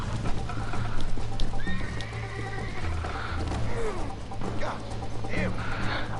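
Horse in the Red Dead Redemption video game neighing and whinnying with clip-clopping hooves over a steady low game soundtrack, with someone talking now and then.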